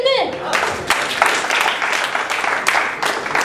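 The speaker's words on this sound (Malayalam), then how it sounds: "നല്ലൊരു കൈയടി കൊടുക്ക്" An audience breaks into applause for a man being welcomed into a family group, a dense run of clapping for about three seconds after a brief voice at the start.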